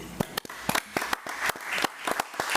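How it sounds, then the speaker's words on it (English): Sparse applause from a small group at a committee meeting for the superintendent, a few separate hands clapping unevenly and close by in a quiet room. "I think she deserves a fine round of applause for what all she do"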